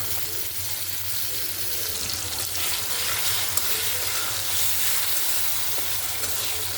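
Dried loitta fish frying in a pan with garlic paste, a steady hiss of sizzling oil with occasional stirring scrapes and a low background hum, no talking.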